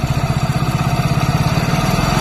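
A Hero Splendor motorcycle engine runs close up with a fast, even pulsing putter as its adjustment screw is turned, the idle steady and loud with no talk.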